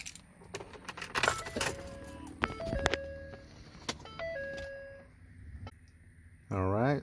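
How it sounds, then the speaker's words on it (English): Keys jangle and a car key turns to the on position in a 2011 Ford F150 EcoBoost 3.5, followed by a few electronic chime tones and a rising whirring tone at the end, close by. "here it says turn vehicle key to on position"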